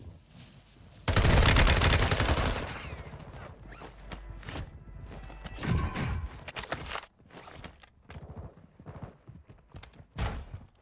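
Bursts of gunfire from the Warzone video game, with an LMG involved: a loud rapid volley near the start, then scattered shots and clatter at varying distances that continue to the end.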